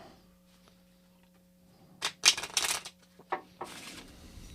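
A deck of playing cards is riffle-shuffled at a table, a quick burst of crisp fluttering snaps followed by a shorter second ripple and a final tap, close and alone after a quiet start.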